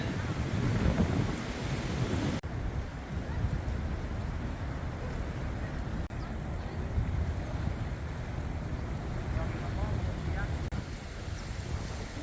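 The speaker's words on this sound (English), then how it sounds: "Getting really windy up here. I hope my sound's not too goofed up." Heavy wind buffets the microphone continuously on a walk in Auckland, New Zealand, a dense roaring rumble with a few abrupt dropouts, drowning out other detail.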